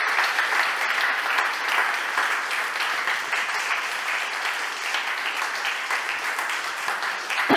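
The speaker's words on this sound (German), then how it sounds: "Bitte einen fetten Applaus für unsere Damen." A crowd applauds continuously at a festival opening in Nuremberg, a dense, even wash of many hands clapping that holds steady for several seconds.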